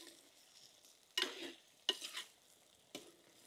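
Pointed gourd (parwal) and potato pieces frying in refined oil sit under a soft, steady sizzle, broken by three distinct scraping stirs of a spatula across the pan.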